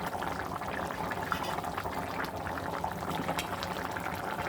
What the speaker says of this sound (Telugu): ఇదండి బెండకాయ కర్రీ ఉడకతా ఉందండి